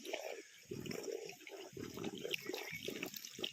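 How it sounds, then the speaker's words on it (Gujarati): Water gushes from an opened tap feeding a fertiliser irrigation setup with a motor running, a steady splashing flow with uneven surges, fairly close and moderately loud, no voices. "તો હવે નળ ચાલુ કરી દઈએ."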